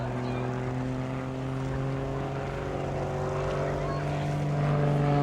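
Propeller drone of an RAF Tutor trainer flying an air show display, pitching up steeply, heard as a steady droning hum with faint talk over it.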